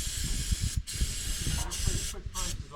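Aerosol brake cleaner, a Napa can, sprays in a steady close hiss lasting almost three seconds, with brief breaks where the nozzle is released, over low outdoor rumble.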